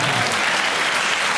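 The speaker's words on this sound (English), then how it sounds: "So the younger people laughing and clapping" Stand-up comedy audience at the Apollo bursting into loud, dense clapping, a steady wash of applause for over a second.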